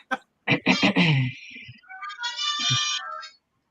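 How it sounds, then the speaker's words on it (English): Mobile phone ringtone going off indoors, a melodic electronic tune playing for a few seconds after a man's brief speech at the start. "that's my phone ringing."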